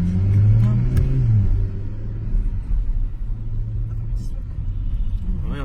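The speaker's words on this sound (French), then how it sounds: "un petit son de V8" Audi RS5 with a V8 engine revs loudly with a deep rumble at the start, then settles into a lower steady idle-like drone that continues for several seconds.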